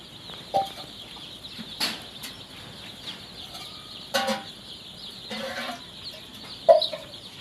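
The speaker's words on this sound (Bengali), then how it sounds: "এই দেখেন মুরগির ছাউগুলো" Chickens and young chicks cluck at a poultry farm, with scattered soft clucks and a few sharper calls and wing flutters over a quiet background.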